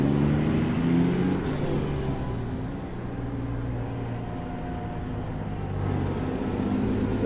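Western Star truck engine in American Truck Simulator, a steady low diesel rumble with layered harmonic drone that dips slightly then swells again, heard alone without talk.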